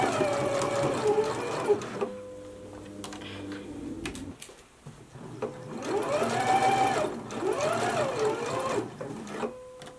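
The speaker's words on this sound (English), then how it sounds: "So let's go ahead and stitch our back neck edge now." Sewing machine stitching the back neck edge of an unlined Simplicity 8955 jacket, with bursts of steady mechanical running broken by a short pause and then resumed, close and clear.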